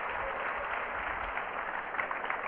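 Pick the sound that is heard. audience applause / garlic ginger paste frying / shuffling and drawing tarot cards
audience applause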